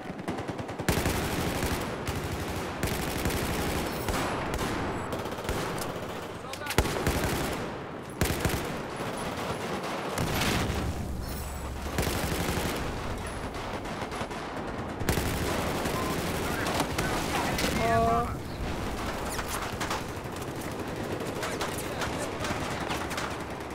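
Shotgun gunfire in Battlefield 4 erupts in loud, repeated blasts and rapid bursts across a chaotic multiplayer firefight, with explosions and battle noise filling nearly every moment and no one talking.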